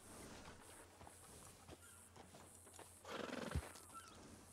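A horse in a ranch role-play video game whinnies once loudly near the end, with soft hoof clip-clops and faint ambient noise before it.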